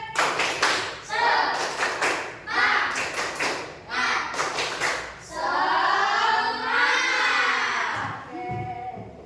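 A classroom of pupils doing a rhythmic spirit clap, with sharp claps in quick patterned bursts and a group chanting along, ending in sustained voices.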